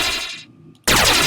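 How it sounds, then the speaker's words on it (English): An explosion sound effect from a game asset library plays as a loud, broadband blast, fades into near silence, then erupts again with a second loud burst. "Let's try the explosion sound."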